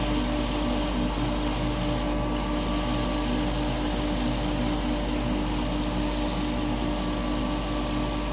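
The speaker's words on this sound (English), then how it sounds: "And sand it both sides at the same time." A small wooden cowboy hat sanded on both sides at once while spinning on a lathe, giving a steady, dense, unbroken abrasive hiss over the motor's hum, loud and close throughout.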